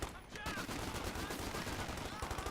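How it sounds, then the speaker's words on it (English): MG42 machine gun firing in Company of Heroes 2, a continuous rattling stream of rapid shots held steady and fairly loud for the whole stretch amid battlefield clutter. "MG42 set on pretty far position, wipes out the Vickers."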